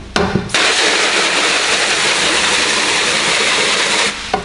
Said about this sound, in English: I'm going to rinse it a little bit. Try to rinse some of that slime.